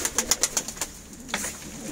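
Pigeons in a coop make a close run of quick, rhythmic bird sounds, a steady series of short pulses that pauses and then briefly resumes, with no one talking.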